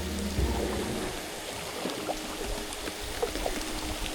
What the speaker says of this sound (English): Time for our ride through the waterfall.